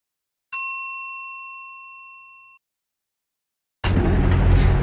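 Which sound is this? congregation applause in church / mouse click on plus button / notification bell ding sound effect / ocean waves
notification bell ding sound effect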